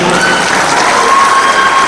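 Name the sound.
conference audience applauding a professor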